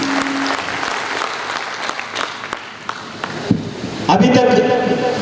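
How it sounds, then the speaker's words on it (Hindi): Audience applause at a community society meeting in Dantewada district, a dense patter of clapping from a gathered crowd, steady at moderate loudness before a voice over a loudspeaker takes over near the end. "एक बार जोरदार तालियां"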